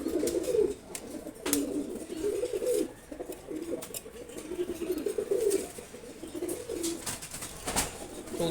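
A pair of pigeons coo close by in a steady series of soft, throaty, rolling calls with brief pauses between them; nobody talks.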